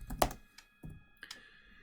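Several separate keystrokes on a computer keyboard, a loud cluster of taps followed by a few isolated clicks, close and fairly quiet, with no talking.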